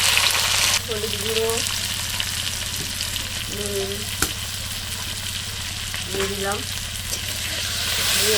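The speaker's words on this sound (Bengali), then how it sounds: "এবার এঁচড়গুলো ভেজে নেবো" Boiled jackfruit pieces frying in oil for a vegetarian echor kalia, a loud steady sizzle with a low steady hum and a few faint chirping sounds in the background, no speech.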